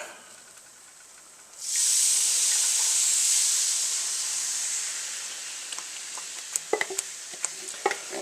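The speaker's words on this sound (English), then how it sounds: "It's splattering everywhere." Tomato sauce for chicken enchiladas hits a hot pan and bursts into a loud, sustained sizzling hiss, which slowly eases and is broken by a few sharp pops and spits near the end.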